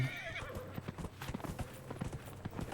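A horse in the video game Dragon Age Inquisition neighs once at the start, then its hooves clop in a quick steady rhythm on the ground, close and fairly loud.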